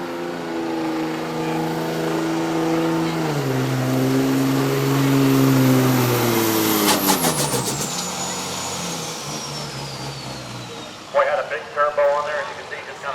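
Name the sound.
diesel drag truck launching with turbo at powerfest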